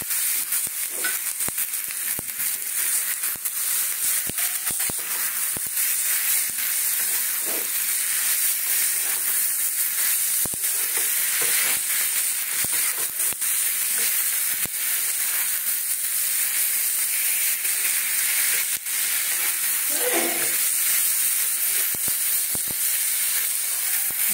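Soybean chunks frying in a pan make a loud, unbroken hissing sizzle for the whole stretch, with faint scattered ticks and an occasional soft stir.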